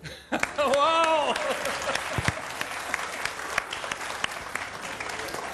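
A studio audience at an iftar television show bursts into loud, sustained applause right after a man's brief spoken line, the dense clapping carrying on steadily to the end.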